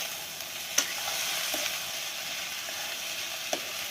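Chickpeas hiss and crackle steadily as they are stir-fried in a pan over a kitchen fire, with a few sharp clinks from a stirring utensil striking the pan.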